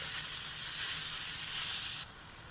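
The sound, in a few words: 80-20 ground beef frying in a pan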